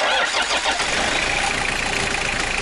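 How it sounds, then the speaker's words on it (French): A car engine, started with a JFEGWO 4000 A jump starter booster, cranks briefly, then catches and settles into a steady idle close by. "J'ai 30 secondes pour démarrer la voiture."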